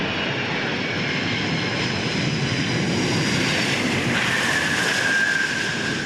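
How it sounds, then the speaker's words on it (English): A six-engine Antonov cargo aircraft with an 88-metre wingspan lands at Perth International Airport, its engines giving a loud, continuous roar and high whine that holds steady throughout, heard alone with no voices. "this is the first time the Antonov has landed in Australia"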